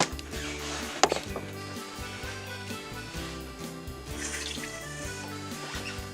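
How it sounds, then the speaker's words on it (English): Cold water runs steadily from a tap through sausage intestine casing fitted on a funnel, a constant splashing wash with one sharp knock early on, heard alone at close range. "Run cold water through."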